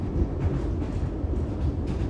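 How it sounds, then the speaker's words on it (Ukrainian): A narrow-gauge train rolls toward Bansko, Bulgaria, a steady, loud rumble of wheels and carriage noise filling the whole stretch with no break and no voices. "І ця провінційна чарівна вузькоколійка за 20 хвилин довезла нас до нашого місця призначення."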